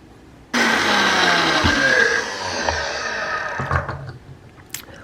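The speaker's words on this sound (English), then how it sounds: "You put that in a blender. I'm using my Vitamix. And you whip it until stiff peaks form." A Vitamix blender whipping cream whirs on abruptly and runs at a steady high roar, its pitch shifting slightly as the cream thickens, then tapers toward the end.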